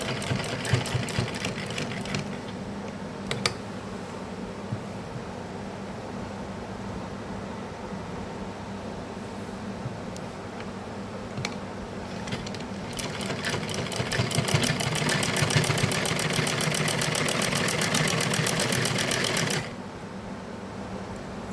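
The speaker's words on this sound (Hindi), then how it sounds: "इस तरह से इसको ऐसे रखकर कपड़े को फोल्ड कर कर सिलाई करेंगे।" Sewing machine stitching along folded cloth to make a double seam, running steadily throughout and getting louder and faster in a sustained burst near the end before easing off.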